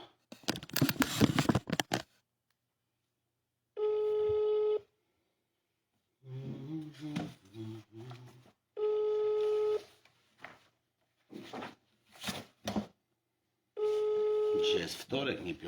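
An unanswered telephone call rings out in repeated one-second ringback tones spaced several seconds apart, with someone talking in the gaps between them.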